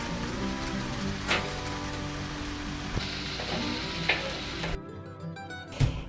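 Grenki, Russian fried bread dipped in beaten eggs, plant milk and spices, sizzles in a pan with a steady crackling hiss, broken by a few soft clinks and a brief clatter near the end.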